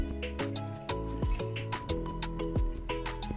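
Water from a glass is poured into a pan of sugar, with splashy trickling, small drips and several light metallic clinks from the pan, heard up close.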